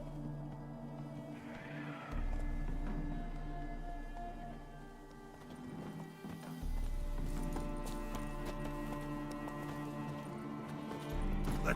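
Hooves of Roach, the horse in The Witcher 3 game, clip-clop in a steady rhythmic trot over background game music, pausing briefly and then resuming, moderately loud and close.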